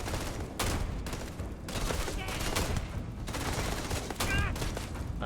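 Repeated weapon fire in Starfield, a series of close shots with bursts and gaps over several seconds, mixed with game sound effects.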